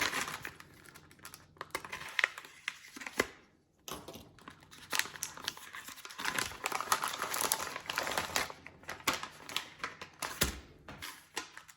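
A package of Spicy Chongqing instant noodles from China is cut open and handled, with quiet, continuous plastic crinkling and snipping that rises and falls close by.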